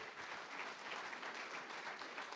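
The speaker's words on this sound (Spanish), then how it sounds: "déle ese aplauso fuerte, déselo fuerte al Señor." A church congregation applauds in a steady, dense wash of clapping that holds evenly throughout, fairly faint and without any distinct voice rising above it.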